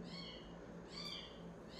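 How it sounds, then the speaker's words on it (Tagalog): A cat meows loudly and repeatedly indoors, three drawn-out wailing calls spaced across the moment over a quiet room hum. "Yun nga lang yung pusa natin doon, napakaingay."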